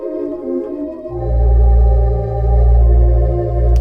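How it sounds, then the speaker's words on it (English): A theatre organ's 4ft flute-like Tibia pipes play sustained, warm chords, with a deep bass note swelling in and pulsing gently beneath. "Lovely, lovely sound there from the Tibia."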